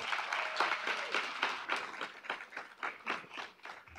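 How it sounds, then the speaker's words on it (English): A modest audience at a summer research institute capstone conference keynote gives a quiet, fairly distant round of applause, with individual claps audible in a loose, uneven patter. "So give yourselves a round of applause."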